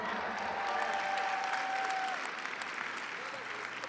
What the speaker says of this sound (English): Round of applause for Varun.